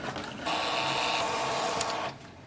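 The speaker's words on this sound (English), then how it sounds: "First we will check the print head nozzle check sheet and click on the print icon." An Epson EcoTank ET-4850 printer prints a nozzle check sheet with clogged nozzles, a close, steady mechanical whir and buzz of the print head lasting about a second and a half before it stops.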